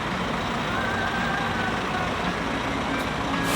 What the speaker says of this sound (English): I don't see these double buses in England, but they look pretty damn cool.